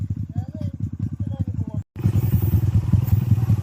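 Motorcycle ridden along a dirt trail, its engine loud and close with a steady rumbling drone that cuts out briefly near the middle, then resumes just as loud.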